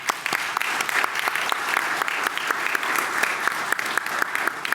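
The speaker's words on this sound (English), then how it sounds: "if we give them a round of applause." Audience applause at a conference session on deploying microreactors, a roomful of people clapping steadily with distinct individual claps popping through the wash, sustained for several seconds with no speech.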